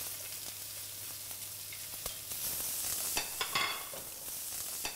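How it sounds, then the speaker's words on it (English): Onion goes into a hot pan to sauté, raising a soft steady sizzle with a few sharp crackles and scrapes near the end, with no talking. "So we can just add the onion to the pan."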